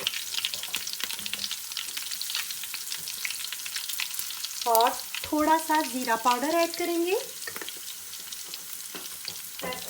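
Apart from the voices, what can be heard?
frying tadka spices in pan for moong dal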